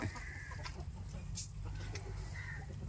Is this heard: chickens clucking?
yes